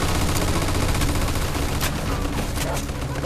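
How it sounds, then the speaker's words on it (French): Machine gun fire rattles through a wartime shootout in Mafia II, a continuous dense burst of rapid shots with scattered explosions, loud and unbroken across the moment. "on dirait qu'on a retrouvé la mitrailleuse"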